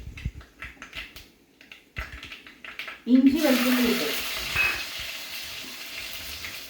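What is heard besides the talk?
mustard seeds spluttering and frying in oil in a pan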